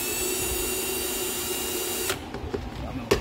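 A power drill whirs steadily for about two seconds while pre-drilling holes in a Ghostbusters siren housing prop, then stops, followed by a few short clicks and knocks.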